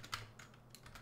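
Soft typing on a computer keyboard, a handful of quiet keystrokes in an irregular patter, faint and close with no voices.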